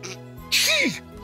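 A single sharp sneeze from a character in the point-and-click adventure game Ceville, short and loud, with a dropping nasal voiced burst, close and clear over quiet game background.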